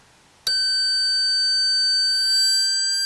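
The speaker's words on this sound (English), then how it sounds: "the beeper switches on." An acoustic-switch burglary alarm circuit's beeper cuts in abruptly after a short quiet moment, then holds a steady, piercing high electronic tone with several bright harmonics until the end.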